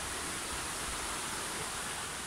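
A mountain stream rushing through the Holzbach gorge, a dense, steady broadband roar of flowing water with no break or variation.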